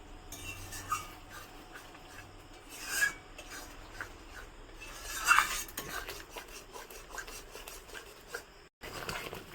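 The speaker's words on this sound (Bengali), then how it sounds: "মশলাটা আমি ততক্ষণ কষাবো যতক্ষণ না এই মশলাটা থেকে তেল ছেড়ে দেয়।" A spoon scrapes and stirs a spice paste frying with yogurt in a pan for a Bengali doi katla fish curry, giving continuous rasping strokes with occasional louder scrapes and a soft sizzle underneath.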